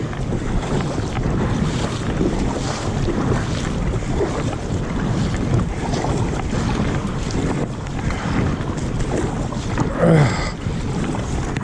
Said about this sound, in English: I'm sure I got some decent waves coming.